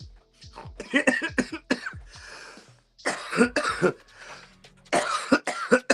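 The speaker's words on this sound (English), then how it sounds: "It hurts to cough." A person coughs in several harsh bursts, grouped in clusters separated by short pauses, close and clear with no talking.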